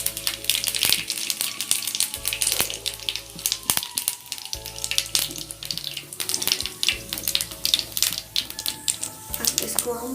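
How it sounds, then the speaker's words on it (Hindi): Half a spoon of white cumin seeds sizzling in hot oil for a lotus root sabzi, a close, crackling fry with irregular pops and bursts running throughout. "तो हमारा तेल अब गर्म हो गया है, तो इसमें डालेंगे आधा चम्मच सफ़ेद जीरा।"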